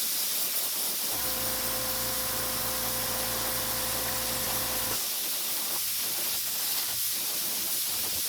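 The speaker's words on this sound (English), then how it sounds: "we gotta spray black on this" Steady, close hiss of black base coat sprayed onto a big twitch bait fishing lure, running for about four seconds with a low droning hum underneath, then cutting off sharply.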